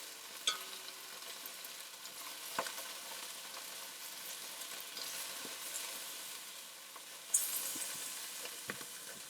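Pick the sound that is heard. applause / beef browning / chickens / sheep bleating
beef browning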